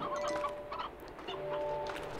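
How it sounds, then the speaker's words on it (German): A painted chicken in the game Slime Rancher clucks repeatedly, soft close clucks over a steady ambient hum with some faint bird chatter. "Das bemalte Huhn."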